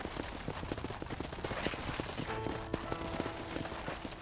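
Rapid gunfire crackles in bursts throughout the Western video game Red Dead Redemption, layered over rhythmic hoofbeats and busy background noise, fairly quiet and continuous.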